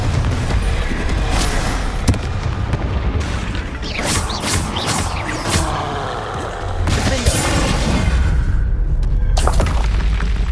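Confringo fire spells blasting in Hogwarts Legacy on PS5: loud, dense booming explosions and crackling bursts fill the scene, layered with rumbling impacts and sharp cracks in steady combat, with no talking.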